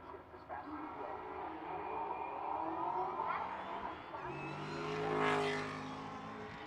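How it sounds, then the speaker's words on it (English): A 2015 Chevy Camaro race car with a stick shift accelerates down a drag strip at Pueblo Motorsports Park, its engine roar building steadily and climbing in pitch, heard from a moderate distance. "Trying to go as fast as he can go with that stick shift Camaro."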